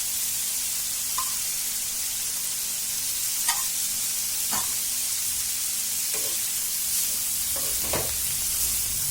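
Raw oil poured over a dry fenugreek-leaf stir-fry leaves an even, steady sizzling hiss. A few faint taps and scrapes sound over it, and there is no speech.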